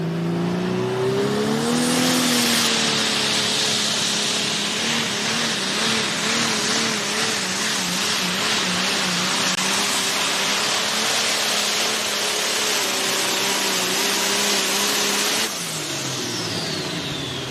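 A modified turbo tractor roars at a truck and tractor pull, its engine screaming loud and sustained with wavering pitch as it pulls down the track, then dropping off near the end.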